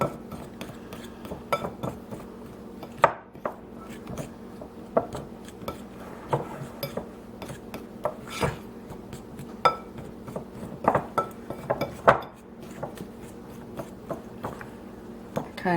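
Shortening being cut into flour in a mixing bowl for homemade pie crust: repeated irregular metallic clinks and scrapes against the bowl, close and continuous over a low steady hum, with some speech mixed in.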